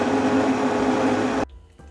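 A Vitamix blender roars steadily as it purees hot vegetable soup, a loud dense whir that cuts off abruptly near the end, leaving a few faint clicks.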